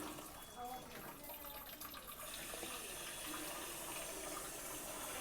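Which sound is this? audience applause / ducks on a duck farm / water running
water running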